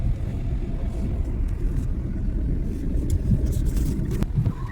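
A car in motion during a driving lesson, a steady low engine and road rumble heard from inside the cabin, continuous and moderately loud with no speech.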